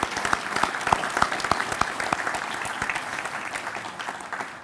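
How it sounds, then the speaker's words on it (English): An audience at a June 2018 Consular's Association of Washington gathering breaks into steady, dense applause, many hands clapping close and loud, then gradually thinning toward the end. "Let's give them a big round of applause."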